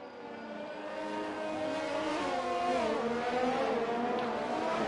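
Formula 1 race cars in an F1 racing video game at the Canada circuit, a loud, steady high-pitched engine whine building and shifting in pitch as cars accelerate, with no talking over it.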